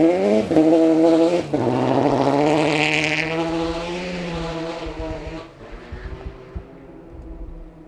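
A Nissan Sylvia rally car on stage 1 of the 2012 Olympus Rally roars past loud and close, its engine note sweeping and then fading as it moves off, with a brief dip suggesting a gear change.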